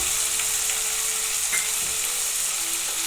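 Chickpeas, drumstick pieces and a large potato frying in a pan on medium heat, a steady close hiss of sizzling oil throughout with no talk.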